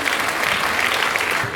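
A seated audience at a French town's 2017 New Year's address claps in a dense, even burst of applause that fills the whole moment without letup.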